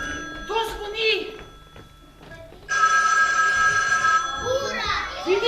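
During a children's stage performance a mobile phone rings loudly and continuously for a few seconds, with children's voices chattering before and after it.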